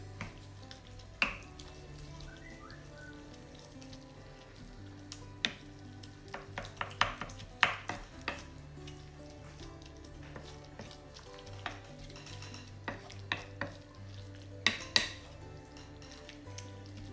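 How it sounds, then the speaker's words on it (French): Indian-style spinach cooking in a pot, with a faint simmering sizzle under repeated sharp clinks and scrapes of a spoon stirring against metal, close and intermittent. "je vais mélanger tout ceci et je vais laisser cuire"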